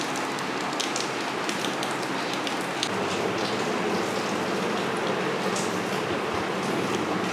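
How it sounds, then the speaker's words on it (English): Steady rain falls in Pakistan, a dense, even hiss of drops on surfaces that continues unbroken throughout, with no voices. "the rain."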